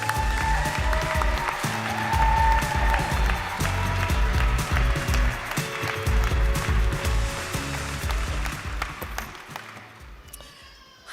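Convocation audience applauding as the keynote speaker comes on stage: loud, sustained applause from a large crowd that holds steady for about ten seconds, then tapers off.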